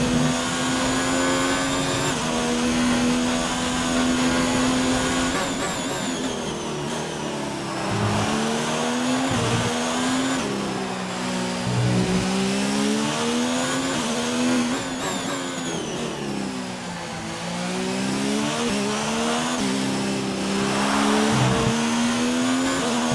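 Formula 1 race car engine in the F1 2019 video game, an Alfa Romeo at the Australian Grand Prix, screaming at high revs on the final lap, pitch rising and dropping through gear shifts and corners, with no talk.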